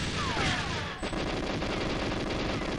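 Sustained rapid automatic gunfire from GoldenEye 007 on the custom Compound level, a dense continuous rattle of shots at steady volume, preceded by a brief swishing burst, with no talking.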